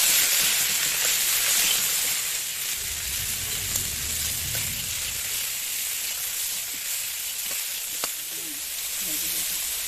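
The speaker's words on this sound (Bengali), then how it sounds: "আমার ফুলকপি কিন্তু ভাজা হয়ে গেছে" Cauliflower pieces fry in hot oil, seasoned with salt and turmeric, producing a steady close sizzle with fine crackling and a few louder pops, a brief low rumble of stirring partway through.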